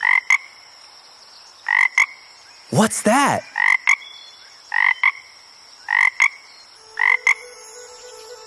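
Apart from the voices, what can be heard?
frog croaking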